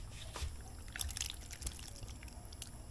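A sweet drink is poured into a glass, a faint, soft trickle with light drips and splashes running continuously.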